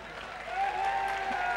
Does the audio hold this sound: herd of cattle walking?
no